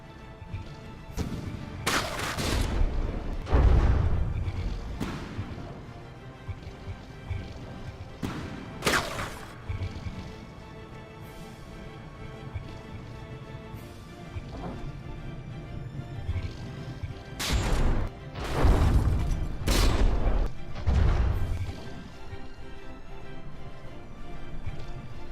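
Heavy naval shells slam into warships in the game From The Depths, a series of loud booming impacts and crashes in scattered bursts with quieter rumbling gaps between.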